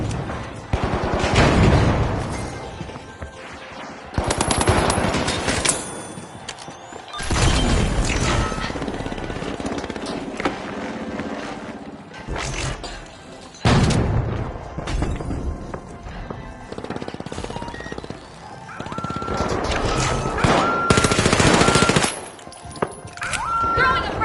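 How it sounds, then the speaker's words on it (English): Heavy gunfire and collapsing structures in the arena shooter The Finals, with rattling automatic bursts, crashing debris and rumbling destruction coming in loud waves over about twenty seconds, mixed with shouted voices. "Side effects include crumbling buildings and total chaos"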